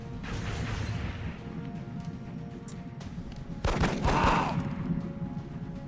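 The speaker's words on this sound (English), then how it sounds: "So we're gonna shoot with the pistol." In the XCOM video game, a single pistol shot cracks sharply over a low, steady ambient hum. A brief reverberant tail follows the report.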